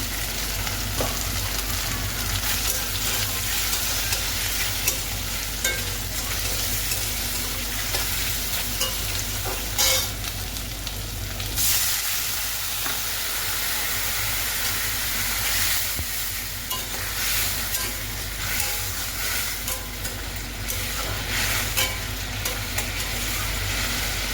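Cut taro fries in a pan with a continuous sizzle that stays steady and close for the whole stretch. Occasional stirring scrapes and clinks break through the sizzle, and no one speaks.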